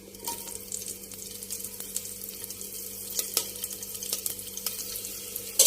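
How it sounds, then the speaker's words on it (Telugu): Cumin seeds and green chillies frying in hot oil for an aloo brinjal curry, giving a steady close sizzle and crackle with scattered pops and small clinks, with no one talking. "ఆయిల్ మరిగిన తర్వాత కొంచెం జీలకర్ర, తరువాత పచ్చిమిర్చి,"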